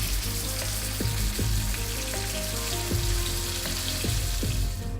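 Beef searing in butter in a hot pan, a steady close sizzle running throughout with occasional clinks and low kitchen hum underneath, no one speaking.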